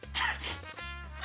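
A single sharp human sneeze bursts out close and loud, followed by a short breathy tail, in a Turkish television drama scene.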